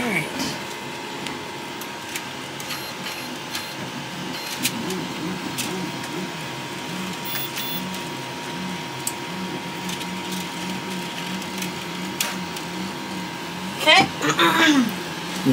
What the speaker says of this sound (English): He's lowering the extruder.